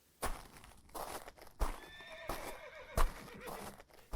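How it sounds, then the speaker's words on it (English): A horse in a barn gives several loud, close whinnies between sharp hoof clip-clops, with short quieter gaps between the bursts. "Inside the barn, Leary finds the Browns' horse with his bridle on"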